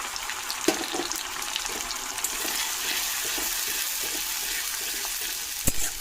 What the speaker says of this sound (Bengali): এই যে মশলাটা আমি আগে থেকে পেস্ট করে নিয়েছিলাম, এটা আমি এর মধ্যে ঢেলে দেবো।